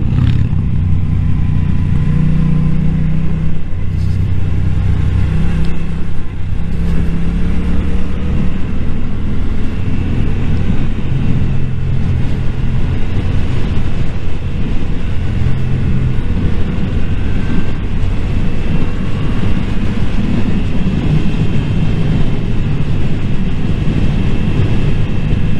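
Motorcycle descending a Swiss mountain road, a steady low engine drone with constant wind rush, loud and continuous with no talk.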